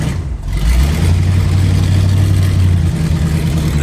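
Engine of an old Pontiac car, abandoned for 48 years, revving loudly and steadily with a strained, labouring transmission, a dense continuous roar close to the microphone with no talk.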